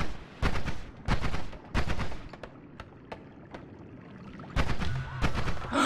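Several loud, sharp bursts of rapid popping explode in quick clusters, separated by brief pauses with smaller scattered pops, like firecrackers going off nearby, in the video game Noita.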